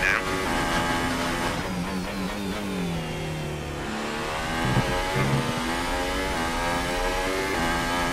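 A Toro Rosso Formula 1 car in the F1 2019 racing game at the Australian circuit drones steadily throughout, its engine pitch sweeping up and down through gear changes, while a voice talks over the loud, continuous engine.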